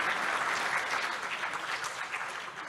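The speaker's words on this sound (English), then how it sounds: "a big round of applause for Mr." An audience applauds a speaker at a summit debate, steady clapping from many hands that holds through and tapers slightly at the end.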